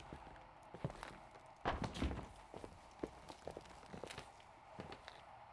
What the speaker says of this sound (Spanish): Yo escucho a gente corriendo.